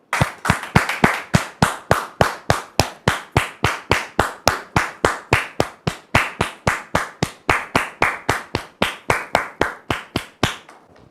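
Steady, rhythmic audience applause welcoming a guest named Dame Georgette onto a French-language talk show, dense clapping holding close and loud throughout with no voices over it.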